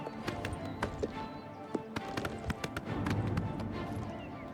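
A horse's hooves clatter in a fast gallop up a steep mountain slope in the video game The Elder Scrolls IV: Oblivion, sharp clip-clop hits coming in quick irregular bursts over steady background game ambience.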